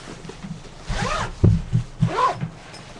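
A zipper on a bag pocket opens in two quick rasping pulls separated by a brief thump, heard up close against a quiet room.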